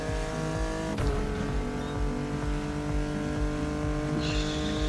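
A Porsche 911 engine drones steadily in the racing video game The Crew Motorfest, holding a sustained, loud, harmonic roar with slight pitch shifts, a sharp click near the start and faint tire noise, with no speech.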